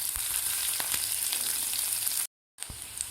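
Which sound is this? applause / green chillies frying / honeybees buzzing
green chillies frying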